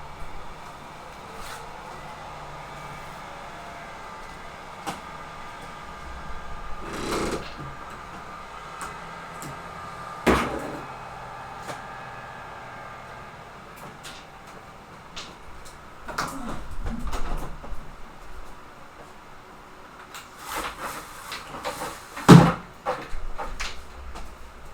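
A window being closed indoors, a series of scattered knocks, slides and thumps of varying loudness with a sharper clunk near the end, close by and without speech.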